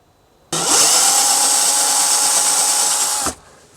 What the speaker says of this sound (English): I've drilled a hole here for the cable to come through